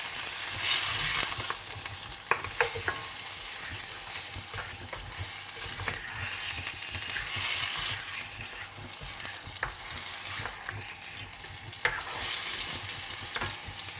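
Mutton with ginger-garlic paste sizzles and fries in a pan while a utensil scrapes and stirs, with clinking scrapes scattered through a continuous crackling hiss.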